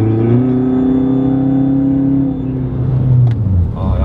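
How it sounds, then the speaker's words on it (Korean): Diesel Kia Sportage R cruises with a steady engine drone and a faint high whistling tone running over it, with a brief bump near the end. "아, 요 소리가 나. 휘파람을 부네요."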